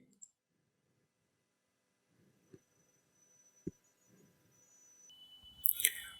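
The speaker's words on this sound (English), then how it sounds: "Click on that link." A computer mouse clicks on a download link: a few sharp, quiet clicks spaced apart in near silence, with a faint hum and a rising burst of noise near the end.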